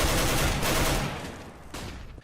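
Rapid AK rifle fire from the Counter-Strike: Global Offensive beta, which reused Counter-Strike: Source sounds, comes as a loud, dense burst of overlapping shots that trails off into a quieter tail near the end.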